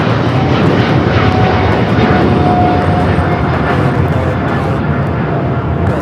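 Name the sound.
American Airlines Boeing 777-300ER taking off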